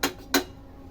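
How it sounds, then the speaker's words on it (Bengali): A kadai, a thin metal frying pan, is picked up in a home kitchen for frying fish paturi, giving two sharp metallic knocks about a third of a second apart, then quiet. "ভাজার জন্য একটি কড়াই নিয়ে নিলাম"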